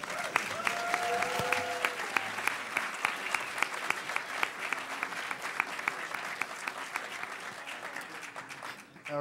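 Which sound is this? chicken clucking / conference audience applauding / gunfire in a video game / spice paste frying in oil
conference audience applauding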